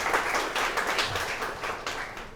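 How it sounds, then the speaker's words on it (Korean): Audience applause at a Seoul youth financial program results meeting, greeting an arriving official; a dense, steady wash of many hands clapping with a few louder bursts, moderately loud throughout. "여러분 큰 박수 부탁드립니다"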